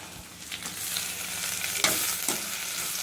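Tomatoes sautéing in a pan for mushroom kulambu, a continuous sizzle broken by a few scraping stirs of the spatula, close and clear with no speech.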